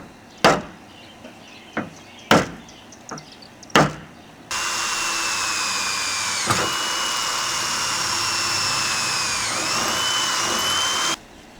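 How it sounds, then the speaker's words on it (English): A few sharp knocks ring out, then a power drill with a 1/8 inch bit whines steadily for several seconds while drilling holes for a car wing, its pitch dipping briefly as it bites, close by. "first, drill those out"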